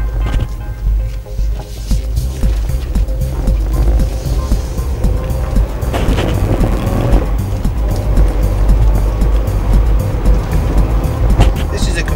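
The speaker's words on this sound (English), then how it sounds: "This is a Capri 280, one of the last of the Capris built." A Ford Capri 280 Brooklands, one of the last Capris built, drives along Essex country roads, its engine a steady loud rumble heard from inside the car for the whole stretch.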